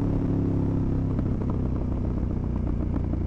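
A KTM 1290 Super Adventure S motorcycle engine with a loud aftermarket Wings exhaust rumbles steadily up close, deep and throaty with a rough, clattering edge.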